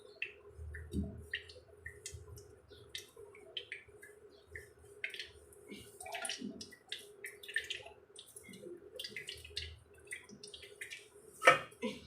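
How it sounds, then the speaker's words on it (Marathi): Whey water dripping from curd hung in a cloth while homemade shrikhand is being prepared, heard as soft, irregular close drips over a quiet indoor background. "हे बघा पाणी पडायला लागले"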